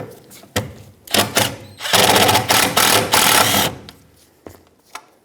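A T30 Torx bit on a power driver unscrews a screw holding the spare tire carrier bracket of a Ford E-350 van, loud whirring bursts of the motor in several runs, the longest in the middle, close by.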